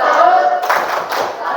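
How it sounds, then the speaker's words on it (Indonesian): A group gives a salute clap at the close of a classroom discussion presentation, a short burst of hand claps and taps filling the moment, fairly loud and near. "Salut, tepuk salut."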